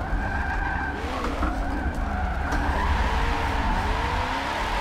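Tires squeal steadily as a car drifts in a racing game on a Logitech G920 wheel, at the Ring with a 190 mph entry, a loud continuous screech over roaring engine noise with no talking.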